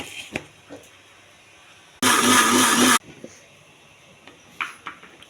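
A mixer grinder blending grapes for juice whirs loudly in a single short burst of about a second, surrounded by quieter kitchen clatter and faint sounds.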